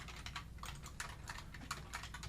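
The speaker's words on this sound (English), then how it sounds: "So just try to follow along with what I'm typing here." Close, steady typing on a computer keyboard as HTML code is written, a quick irregular patter of key clicks with a few louder strokes, no voices.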